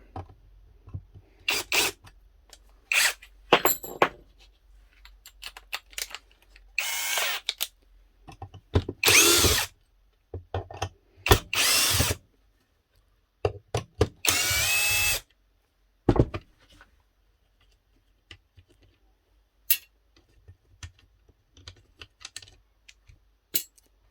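A power screwdriver whirs in a string of short bursts as it backs screws out of a Kenwood Titanium Chef stand mixer to free the motor, with quiet handling clicks and pauses between each loud, close spin.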